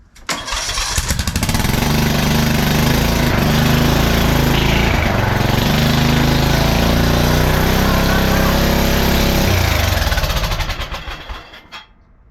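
A small turbocharged lawn mower engine runs loud and close for about ten seconds, a rough, rapid pulsing roar with a slight rise in pitch midway, then cuts off and fades out.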